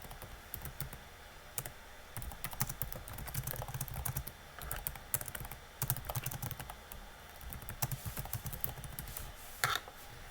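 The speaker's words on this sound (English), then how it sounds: "you would just type in the name of your actual prompt" Steady typing on a computer keyboard as a prompt is entered, a fairly close run of quick keystrokes with a few louder clicks, continuing for about ten seconds with no talking.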